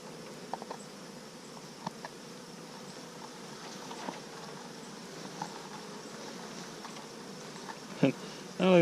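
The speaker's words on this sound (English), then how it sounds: "I don't think that's the best way to scoop bees." Honey bees buzz steadily during a June hive inspection, a dense, continuous drone close to the microphone with faint clicks and small handling knocks scattered through it.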